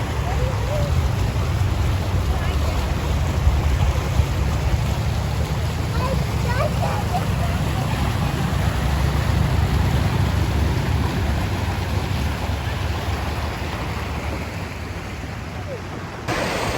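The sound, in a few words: river running along the road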